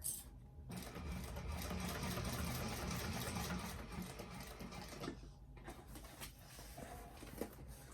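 A sewing machine stitches a bag fitted with rectangular rings, running in a steady, close mechanical whir for most of the stretch with a brief dip partway through before it carries on.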